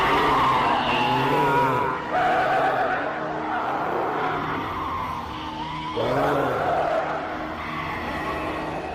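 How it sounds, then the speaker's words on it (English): Kaiser Ghidorah from Godzilla Final Wars roars in loud, shrieking, screeching bursts that keep going with a few short breaks, harsh and close, layered with rumbling noise. "That was the roar of Kaiser Ghidorah you just heard"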